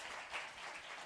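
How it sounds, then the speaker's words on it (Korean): Brief burst of congregational applause welcoming newcomers during a Sunday church service, a soft, fairly distant wash of clapping with no voices over it. "뜨거운 박수로 환영하겠습니다"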